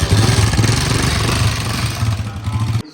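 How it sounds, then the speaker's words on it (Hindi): A motorcycle engine runs steadily up close with a rough, throbbing idle rumble, then cuts off abruptly at the end. "स्टार्ट हो मोटरसाइकिल तो ऐसे ही लगता है जैसे कोई ट्रेन जा रही है।"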